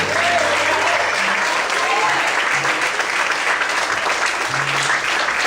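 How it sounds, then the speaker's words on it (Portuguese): A church congregation applauds loudly and steadily during an evening service, dense sustained clapping from a large crowd with a voice speaking over it and faint tonal sounds underneath. "Você pode glorificar e aplaudir o nome dEle bem forte."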